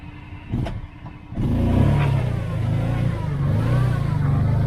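A Kawasaki Teryx UTV on General Grabber A/TX tires driving in four-wheel lock, its engine rising to a loud steady drone after a short quieter start, heard from on board.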